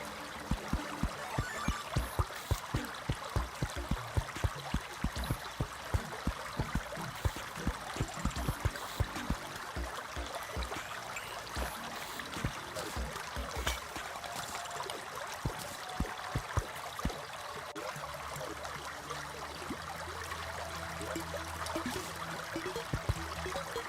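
Steady running water of a waterfall wall in Terraria, a continuous trickling, gurgling flow with scattered soft clicks, moderately quiet throughout with no voices.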